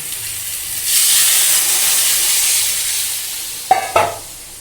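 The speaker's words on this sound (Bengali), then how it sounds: "তারপরে সব মশলা দেওয়া হয়ে গেছে, তারপরে দেবো জল।" Water poured into a hot pan of spiced cooking loud steady sizzle and hiss that swells after a second and holds, with two sharp clatters of a spatula or pot near the end.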